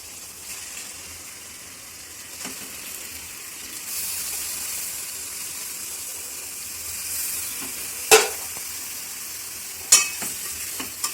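Washed chicken pieces sizzle and fry steadily in a hot pan for a chicken curry, with a soft continuous hiss and a couple of sharp clinks of utensils near the end.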